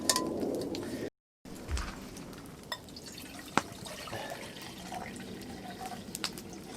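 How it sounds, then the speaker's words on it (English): Water trickles and drips into a small Primus solar stove kettle at a snowy bushcraft shelter camp, with a steady soft liquid hiss, a brief break and a couple of light metallic clinks. "I'm going to put some water to boil there."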